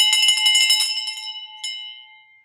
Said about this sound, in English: We're ringing this bell.